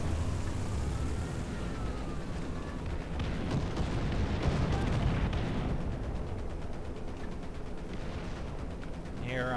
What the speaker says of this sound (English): Okay, so, artillery galore.